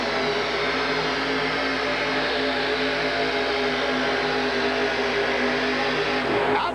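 Aluminum Ford truck with a 636 cubic inch engine at a 1989 truck pulling event in Minneapolis, a loud sustained engine roar with steady droning harmonics building in power throughout, heard from a distance.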